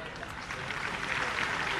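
Loud, sustained applause from a large stadium crowd at SMS Stadium during a patriotic group singing event for Rajasthan schoolchildren, a dense steady wash of clapping that swells slightly toward the end.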